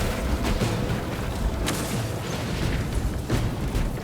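Melter charge explosions in Warhammer 40,000: Space Marine 2, a loud rolling series of booms and bursts over constant battle rumble, several heavier blasts spread across the clip.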